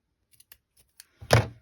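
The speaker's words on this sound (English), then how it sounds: "So if that happens, just snip it." Scissors snipping fabric while sewing a storage bowl, a few faint light ticks followed by one close, sharp cut.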